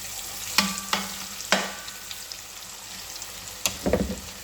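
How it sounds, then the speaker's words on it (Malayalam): Steady sizzling of beef frying in hot oil in a large pan, with a few sharp clatters and bursts of spattering as pieces go in; no talking. "നമുക്ക് ബീഫ് അതിനകത്തോട്ട് ഇട്ട് കൊടുക്കാം"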